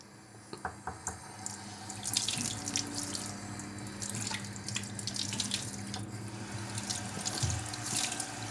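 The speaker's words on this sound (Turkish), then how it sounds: "İyice ovuyorum. Ve iyice ıı, duruluyorum." Tap water runs steadily into a sink while a clay dolma stone is scrubbed and rinsed beneath it, a constant near splash with small knocks and drips scattered through it.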